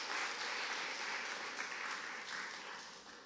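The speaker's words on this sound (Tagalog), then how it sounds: "isa pang malakas na palakpak kay Jesus" A church congregation claps loudly and continuously in praise, a dense, even wash of applause that eases slightly toward the end.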